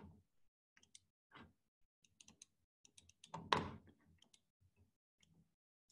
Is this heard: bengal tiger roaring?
no